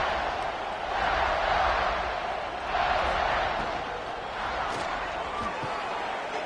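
Stadium crowd noise in a college football video game with Ohio State playing, a broad rolling roar that swells and eases in waves, with the broad wash of noise continuing throughout.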